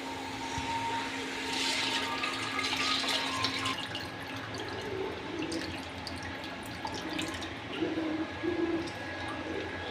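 Tamarind water is poured into a pan for a fish curry, giving a soft, steady splashing and trickling over a few seconds, with faint kitchen sounds around it.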